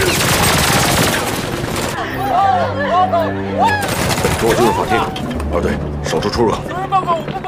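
Gunfire bursts in a dramatic film scene as a mafia gang storms and wrecks a courthouse, loud and layered with music and shouted dialogue throughout.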